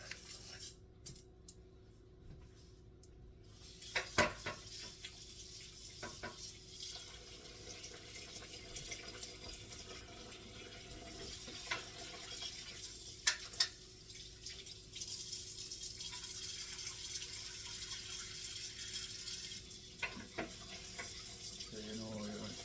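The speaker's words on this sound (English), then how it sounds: "Washing the rice, guys, at least 3 to 4 times" Basmati rice being washed and rinsed in water at a sink, a quiet running-tap wash with faint sloshing and clicks, no talk.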